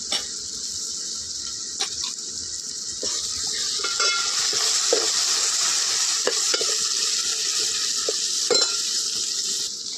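Suran (elephant foot yam) fries in a pan with red chili powder and Malvani masala, a steady close sizzle broken by scraping stirs and occasional clicks of a utensil against the pan.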